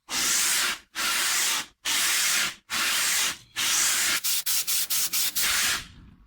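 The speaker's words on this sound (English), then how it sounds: "I'm using a 12-inch radius sanding block on the fretboard" A 12-inch radius sanding block rubs back and forth along a guitar neck's fretboard. Long, loud, steady rasping strokes with brief pauses between them give way to a quick series of short strokes near the end.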